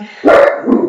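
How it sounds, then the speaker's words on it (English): A dog barks twice near the microphone, a loud yelp followed by a shorter bark, while someone speaks briefly before and over it. "sorry about the dog"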